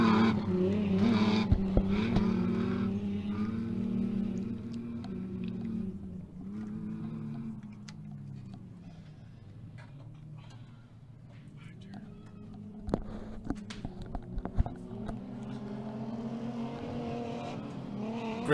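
Mini stock off-road trucks race on a short-course dirt track in Victorville, engines revving and rising in pitch through a turn while a commentator talks over the racket.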